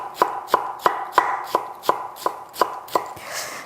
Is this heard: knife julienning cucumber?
yes